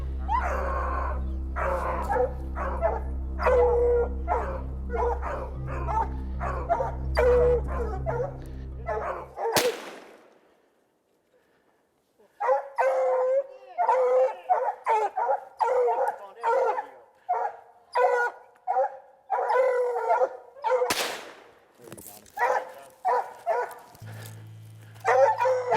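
Hunting hounds bay and yelp excitedly in rapid repeated bursts during a bobcat hunt in Montana, loud and close, with a short quiet gap midway and sharp cracking noises.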